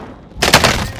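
A sudden loud burst of gunfire from the Call of Duty: Modern Warfare video game breaks out after a quiet moment, several close rapid shots thudding together.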